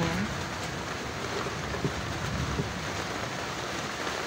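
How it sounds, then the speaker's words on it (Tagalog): Heavy rain pours steadily outdoors, dripping through a leaky wooden shelter, with a dense, even hiss of falling water throughout and no one speaking. "Yan, umuulan na naman. Lumakas na naman yung ulan."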